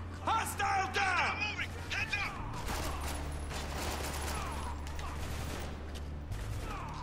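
Dense bursts of rapid gunfire fill a firefight in Spec Ops: The Line, loud and near, with one sharp shot early on, while several voices shout and talk over the combat throughout.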